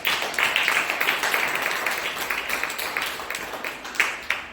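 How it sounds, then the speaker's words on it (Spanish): Congregation clapping in a church, a dense steady patter of many hands held at even loudness for several seconds, with a couple of sharper bursts near the end. "Denle un aplauso al Señor."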